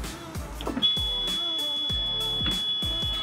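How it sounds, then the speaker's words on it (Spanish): A continuous high-pitched warning beep from a Carado Vlow 601 motorhome's entry step starts and holds steadily, sounding over repeated low thumping noises nearby. "Pero tiene este pitido que puede resultar molesto"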